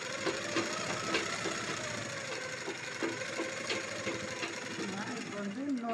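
A sewing machine runs steadily, stitching a 40-inch blouse with a patterned neck, its motor hum and rapid needle knock continuous and close throughout.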